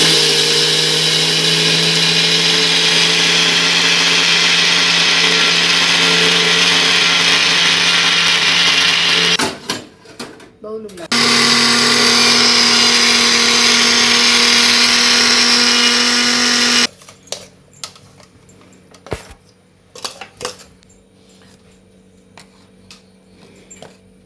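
A mixer grinder blending a milk powder peda mixture whirs loudly and steadily, cuts out briefly, roars again, then stops, leaving faint clatter and rustling.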